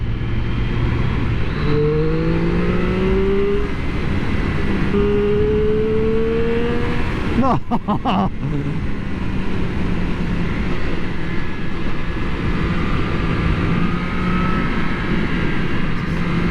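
A 2024 Triumph Street Triple 765 RS naked sportsbike is ridden, its engine note rising and falling through the gears over constant loud wind rush, with a brief buffeting burst midway.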